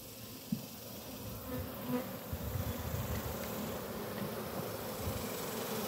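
A dense swarm of honeybees buzzes steadily around a hive at close range, a continuous droning hum with no voices over it.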